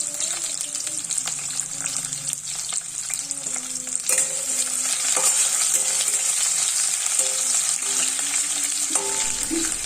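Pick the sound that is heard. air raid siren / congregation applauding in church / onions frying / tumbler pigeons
onions frying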